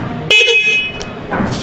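A motorcycle horn without an interrupter relay gives one short, loud, flat honk that cuts off abruptly, followed by quiet background.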